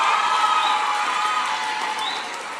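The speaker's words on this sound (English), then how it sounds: "Round of applause for our publishers." Audience applause at a teen press conference for book publishers, a steady dense patter of clapping held for a couple of seconds and fading slightly toward the end.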